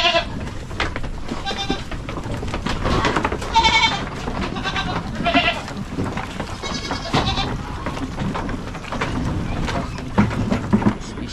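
Goats bleat repeatedly in a farm pen, several animals calling in overlapping bursts, close and loud over a constant noisy background with occasional shuffling.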